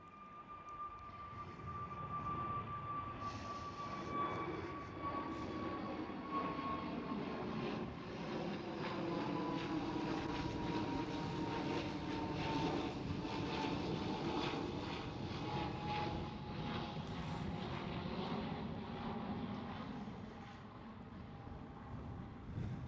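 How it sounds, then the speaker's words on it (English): An Airbus A321neo at Amsterdam Schiphol passes as a faint, distant jet rumble that swells gradually and fades again over about twenty seconds, heard alone without talk. "See, there's the Airbus A321neo with the white nose again."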